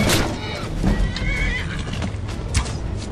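A horse in Skyrim whinnies loudly with hooves clip-clopping, over a busy, dense game soundtrack.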